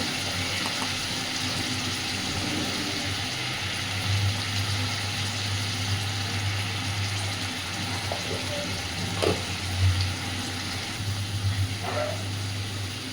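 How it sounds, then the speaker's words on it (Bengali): Ground coriander, chili and turmeric frying in a pan for a vegetarian dish, a continuous soft sizzle with a low steady hum beneath and a few faint clicks and scrapes of stirring. "খুব ভালোভাবে মশলাটাকে একটু কষাতে হবে"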